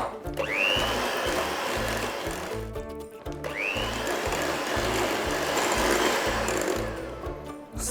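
Electric hand mixer beating butter, sugar and free-range eggs for a pumpkin tart batter, whirring steadily close up with a rhythmic low chugging pulse and two rising whines as the speed picks up.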